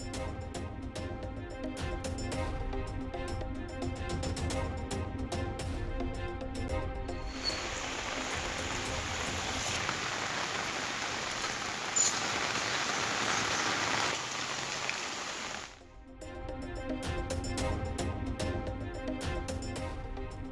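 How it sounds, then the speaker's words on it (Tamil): Heavy early-morning rain in Thoothukudi, a dense steady hiss of downpour, moderately loud and constant for several seconds between quieter stretches. "தூத்துக்குடியில் அதிகாலையில் பரவலாக கனமழை."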